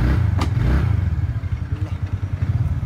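A motorcycle engine rumbles up close with a low, throbbing pulse, running steadily for a few seconds with slight clattering and no voices.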